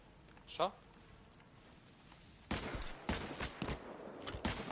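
Gunfire in DayZ, a rapid string of sharp shots breaking out after a quiet stretch, several cracks close together and fairly near, with a faint voice earlier.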